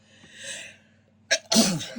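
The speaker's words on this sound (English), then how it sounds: "my sneezing was worse in here" A quiet breath builds up, then a sharp sneeze bursts out close to the listener, followed by a short trailing exhale.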